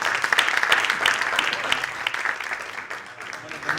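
Audience applause for a set designer at a post-show colloquium for the play 'Apnea', dense clapping throughout that thins slightly toward the end, with a voice speaking over it.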